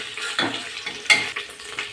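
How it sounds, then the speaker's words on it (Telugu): Ginger garlic paste frying with onions in a pan, stirred with a few scraping strokes over a soft, steady sizzle. "అల్లం వెల్లుల్లి పేస్ట్ వేసుకోవాలి. వేసుకొని ఒకసారి కలుపుకోండి."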